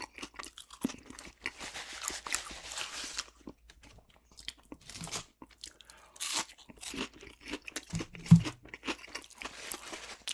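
Close, crisp crunching and chewing of crunchy Arby's hash browns in ASMR eating, with irregular bites, mouth sounds and occasional wrapper crinkles between quiet pauses.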